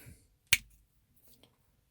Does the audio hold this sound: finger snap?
yes